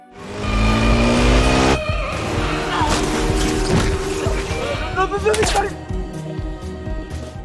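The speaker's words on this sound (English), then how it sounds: "when Vicente passed through a deserted area, the car that followed him began to hit Vicente until it fell." A car chasing a motorbike rams it and skids, with loud tires squealing and an engine roaring up close, broken by sharp impacts and scraping.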